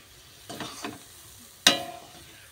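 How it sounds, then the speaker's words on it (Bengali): Semolina and rice flour dough is stirred in a pan: a couple of soft scraping strokes, then a sharper, louder scrape with a brief sizzle, close and with no talking. "দিয়ে আমি ভালো করে নাড়িয়ে ডোটা করে নিচ্ছি"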